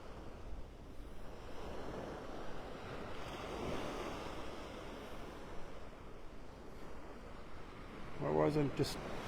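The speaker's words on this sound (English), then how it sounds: "Just the beginnings of a storm surge, and the power is just unbelievable." Storm surge waves crashing and rushing up a beach in North Naples, Florida, a steady roaring wash of surf mixed with wind buffeting the microphone, with a brief voice near the end.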